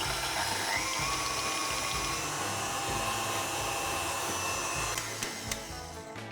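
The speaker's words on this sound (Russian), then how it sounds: "отправляю в чашу комбайна на оборотах чуть выше среднего" A food processor whips cold chocolate ganache at slightly above medium speed, a loud steady motor whir with a grinding, buzzing texture running throughout, a few clicks near the end, no talk.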